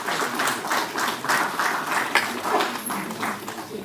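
An audience at an event in Delhi, with officials present, applauds in a soft, rhythmic patter of clapping heard from a distance, steady for a few seconds.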